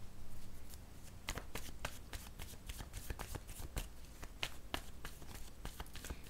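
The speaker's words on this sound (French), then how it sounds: "Je vais piger une autre carte ici." Tarot cards riffled and handled as one card is drawn from the deck, a close run of quick papery flicks and taps in an irregular rhythm, quiet and without talking.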